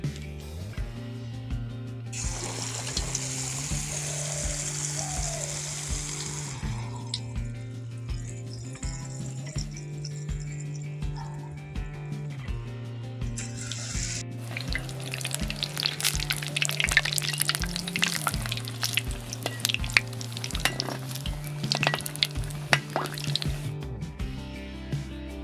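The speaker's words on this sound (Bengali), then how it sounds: "এইভাবে করে তেলের উপর দিয়ে দিচ্ছি" Besan-coated chop fritters dropped into hot oil for deep frying, bursts of bubbling sizzle rising and fading over steady background music.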